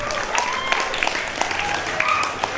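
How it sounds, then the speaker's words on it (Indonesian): A school audience applauds the student council candidates at a senior high school debate in Kupang, with a loud, continuous wash of clapping and voices heard underneath. "Tepuk tangan dulu untuk mereka semua ini."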